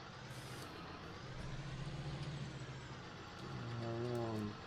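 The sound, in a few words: tractor pulling a trailer in video game Farming Simulator 19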